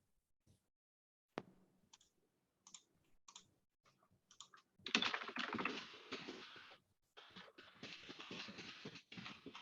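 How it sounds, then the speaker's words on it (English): Typing on a computer keyboard picked up on an online class call: sparse, quiet clicks at first, then a denser, faster run of keystrokes. No speech. "I think I can hear your typing"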